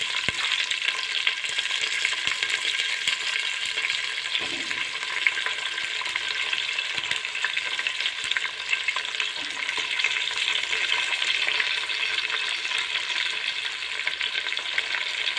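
Chopped onion and green chilli fry steadily in a pan, a continuous close sizzle with a faint scrape of stirring, no voices.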